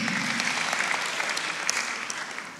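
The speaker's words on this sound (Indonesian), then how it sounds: "Tepuk tangan yang meriah untuk Tuhan" A church congregation applauds during a sermon, a dense wash of clapping with scattered sharper claps standing out, moderately loud and continuous.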